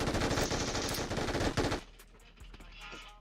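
Shotgun gunfire in rapid, loud, closely spaced bursts for almost two seconds, then a sudden drop to quieter background noise with a faint stray shot.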